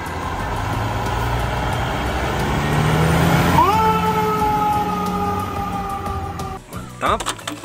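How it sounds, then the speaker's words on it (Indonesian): A toy fire truck's siren wails over steady motor noise and background hum, rising into a sustained electronic tone before cutting off near the end. "Ada mobil truk pemadam kebakaran."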